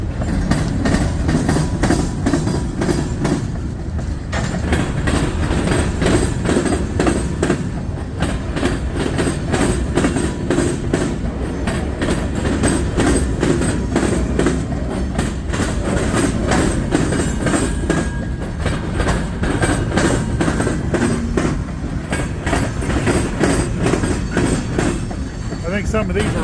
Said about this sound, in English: Short little hopper train coming through. He's a local.